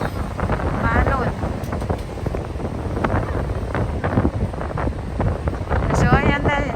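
Wind gusts and choppy sea waves at the Jeddah corniche, a steady rough roar with loud buffeting against the microphone; voices talk intermittently over the noise.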